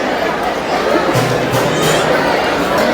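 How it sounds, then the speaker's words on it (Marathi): Crowd chatter at Jivdani temple near Mumbai, a dense, steady wash of many voices and bustle that stays loud and unbroken throughout. "कसली गर्दी आहे."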